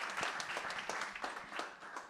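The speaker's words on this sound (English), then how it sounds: "can we give a big round of applause to Emma as well for moderating this panel?" An audience applauds a conference panel moderator at a climate resilience event, with dense, steady clapping of moderate loudness that holds for the full stretch.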